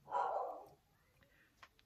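A dog barking downstairs, a single muffled bark from another floor of a house, heard indoors at a distance, followed by faint household sounds.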